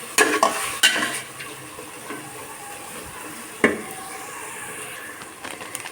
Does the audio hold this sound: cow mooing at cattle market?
no